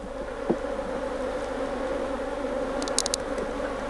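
Honeybees buzzing at an opened hive after a problem swarm was housed, a steady close drone of many wings with brief louder buzzes as individual bees pass near.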